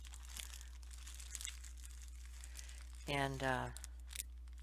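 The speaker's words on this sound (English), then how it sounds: "I'm just going to store it in a plastic bag here." A plastic bag crinkling as homemade molding paste is stored in it for a craft experiment, one short rustling burst amid a steady low hum and faint handling noises, after a single spoken word.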